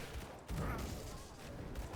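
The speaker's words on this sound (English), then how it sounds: "And these explosions are definitely doing a decent amount of work." Quiet, muffled bursts of video game explosions crackle in a rapid cluster as a lightning caster Paladin kills enemies, the blasts overlapping into a short rumbling barrage.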